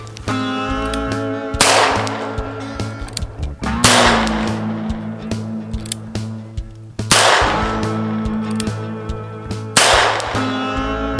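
A .357 Magnum pistol fired at a target 70 yards away gives four loud, sharp gunshots a couple of seconds apart, each ringing out with a long echo at an outdoor range.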